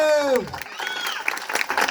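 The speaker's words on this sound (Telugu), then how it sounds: "గట్టిగా చప్పట్లు." Loud applause from an audience at a Christian children's stage performance, clapping over the tail of a sung line and a speaking voice.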